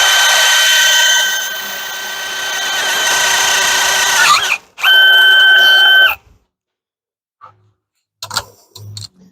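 A power drill running at low speed bores a hole with a large bit during a bench vise rebuild. A loud steady whine is close by and breaks off, then comes a second short burst, followed by quiet clinks of handling.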